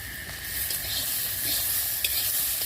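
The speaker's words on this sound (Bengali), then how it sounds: "ভালো করে এটাকে সবজিগুলোকে ভেজে নেব।" Vegetables with banana stem fry in a hot pan, giving a steady close sizzle broken by light scraping stirs and a few sharper crackles.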